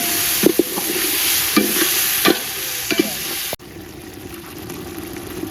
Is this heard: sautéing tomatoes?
yes